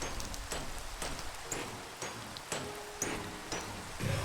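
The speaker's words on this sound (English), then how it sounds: "It's raining." Steady rain falls in the Minecraft video game, a continuous broadband hiss with soft pattering drops that holds an even level throughout, with no voices.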